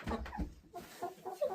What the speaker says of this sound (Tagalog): Ang cute ng mga manok